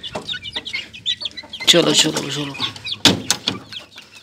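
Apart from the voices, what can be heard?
chicks chirping while being put back in a cage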